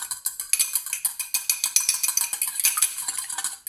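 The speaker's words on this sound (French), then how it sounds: "On mélange rapidement, les amis." Waffle batter with sugar and egg being stirred quickly in a bowl, the utensil scraping and clicking against the sides in a steady, rapid rhythm of close, crisp strokes with no talk.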